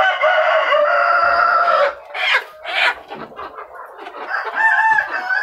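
Laying hens during a bird flu vaccination, a close, loud run of clucks and squawks with a brief crowing call, bursts rising and falling over a few seconds.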